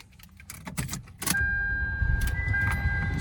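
A clean 2001 Toyota Solara cranks briefly with its key and catches, settling into a steady close idle after a few clicks and rattles of the keys.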